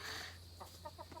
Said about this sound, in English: So we're out here with the chickens, and there are 3.